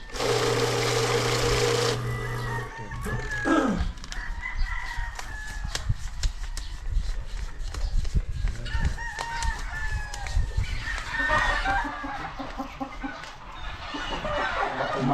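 Roosters crow repeatedly with hens clucking throughout, a busy chorus of poultry on a game farm, preceded by a brief loud mechanical whirring at the start.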